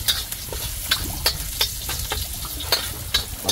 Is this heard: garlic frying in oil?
yes